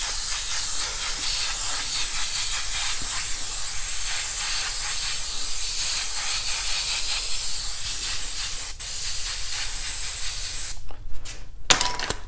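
An airbrush sprays paint splatter onto a T-shirt with a steady, close, loud hiss that runs unbroken for most of the stretch, then breaks into a few short bursts near the end.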